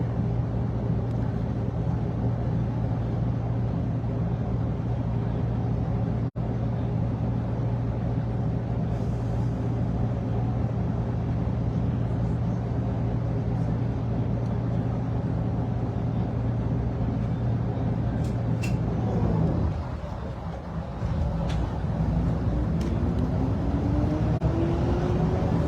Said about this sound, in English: To hear the sound of the Leyland engine as we come around from the traffic lights.